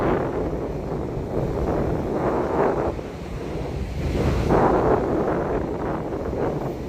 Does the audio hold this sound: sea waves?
yes